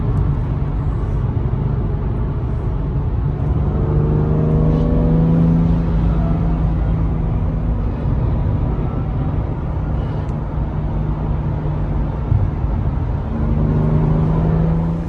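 A car pulls away for a short drive, its engine rumbling and whirring steadily close by, the pitch climbing and settling as it gathers speed.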